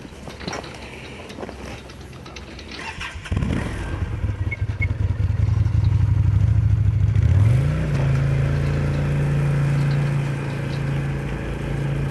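A nearby snowmobile engine idles roughly, then settles into a loud, steady drone with a brief rise in pitch as it tows a track-setting sled at constant speed, grooming a cross-country ski trail.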